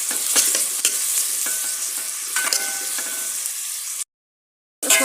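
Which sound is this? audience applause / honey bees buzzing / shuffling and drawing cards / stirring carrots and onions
stirring carrots and onions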